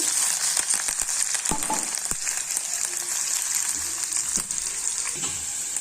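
Sliced onions and curry leaves frying in oil in a pan, a loud, continuous bright sizzle with a few sharp ticks and a soft stirring scrape, close up and without talk.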